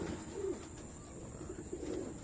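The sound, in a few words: racing pigeons cooing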